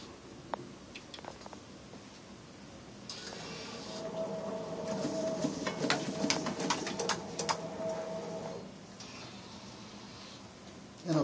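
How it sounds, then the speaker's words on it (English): A Neopost AS226p addressing printer runs a test pattern with a mechanical whir and rapid clicking and ticking. The sound builds midway, holds for several seconds, then eases off, fairly close and moderately loud. "And it'll print whatever built-in test pattern you have set up on the machine"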